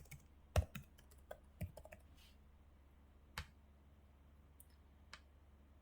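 A computer keyboard is typed on in a few quiet, sparse clicks and taps, close and faint.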